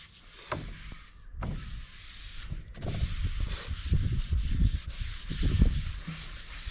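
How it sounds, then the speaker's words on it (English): Bursts of hand sanding on a cedar cutting board, rough scratchy strokes that swell and fade, growing louder and busier toward the end, with no talking. "Now time to do some sanding."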